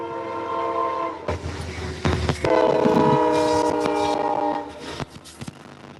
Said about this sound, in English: The one that's coming now is coming westbound from Fonda. It goes right past where she works at. Amtrak.